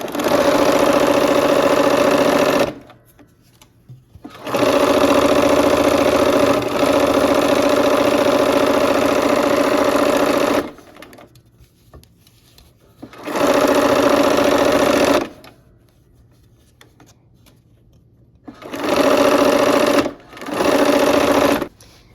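A sewing machine runs a quilt block seam in five loud, close bursts of steady motor hum, separated by short quiet pauses where the stitching stops.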